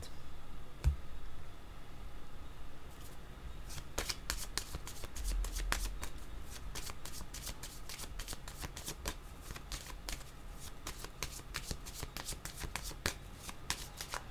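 Tarot cards are shuffled by hand during a card reading, a quiet, close run of crisp riffling clicks and flutters that repeats in bursts for many seconds, with no speech.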